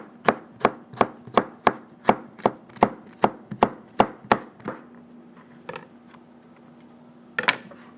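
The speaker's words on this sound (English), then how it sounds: "we're chopping them into matchsticks or julienning them" A knife chops papaya into matchsticks on a board in a quick, even run of about a dozen sharp, close knocks, then stops, followed by a couple of isolated taps.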